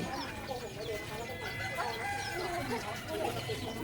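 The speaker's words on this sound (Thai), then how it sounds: "ไก่ตัวนี้เสียงยังไม่ค่อยดีเท่าไหร่" Chickens cluck and call softly at a distance at a cafe in Pak Tho, Ratchaburi, Thailand, over a murmur of background chatter, with a faint, rough crow from a rooster with a poor voice among them.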